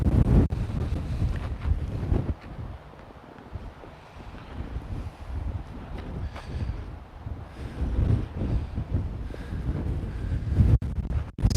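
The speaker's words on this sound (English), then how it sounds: "So much wind." Strong wind buffeting a microphone outdoors, rough low rumbling gusts that rise and fall throughout, close and loud with no speech.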